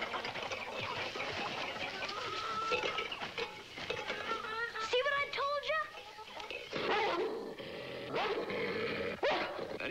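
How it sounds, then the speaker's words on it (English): A wild dog barks and yips outdoors, several short calls scattered amid birdsong and a rooster-like crow, moderately distant and mixed with faint background talk. "Out there's a dog."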